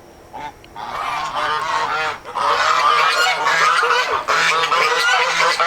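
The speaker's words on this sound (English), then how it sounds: "once the geese have moved down and aren't going to be so loud" A flock of geese in a garden honk loudly in overlapping bursts, a short call first and then a dense, nearly continuous chorus of harsh honks close by.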